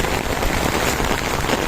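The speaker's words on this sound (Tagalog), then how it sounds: "Hinihintay ko yung malakas na buhos ng ulan" A heavy downpour hisses in a thick, steady wash of raindrops striking surfaces, close and loud for a brief moment with no voices.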